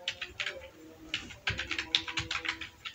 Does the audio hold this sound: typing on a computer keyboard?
yes